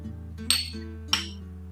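A small spoon clinks twice against a vessel while lemon juice is added to sugar syrup for jalebi. Each clink is short and bright, over a steady low hum.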